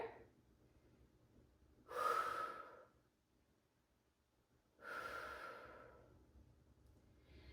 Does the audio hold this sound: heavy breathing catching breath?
yes